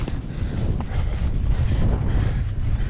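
Wind buffeting a microphone on an outdoor walk, a loud, continuous low rumble that swells and gusts throughout without pause.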